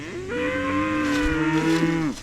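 A cow in a corral gives one long, loud, close moo that rises, holds steady and then drops away, with no talk.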